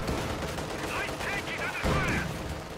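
Base bunker guns in a war strategy video game fire a continuous, dense burst of gunfire, loud and sustained throughout, with battle noise layered in the mix.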